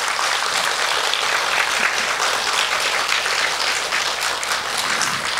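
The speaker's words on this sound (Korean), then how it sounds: "공감하신다면 여러분 박수 한번 쳐주십시오." Steady, dense applause from a lecture audience at Jogyesa temple during a talk on sound, healing and meditation, a close, even wash of many hands clapping for the full length with no voices over it.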